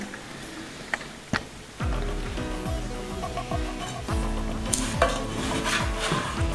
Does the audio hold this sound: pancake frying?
yes